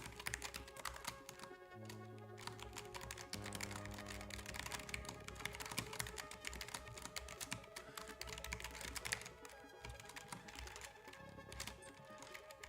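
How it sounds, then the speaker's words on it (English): Someone typing code on a computer keyboard, a steady stream of quick, faint key clicks going continuously, close but quiet, with a low background hum and no talking. "I'm going to type it."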